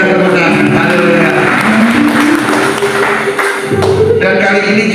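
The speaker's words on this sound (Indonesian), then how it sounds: "Berikan tepuk tangan." A church congregation in Jakarta claps together in sustained, steady applause, dense and close, with music or tones sounding beneath.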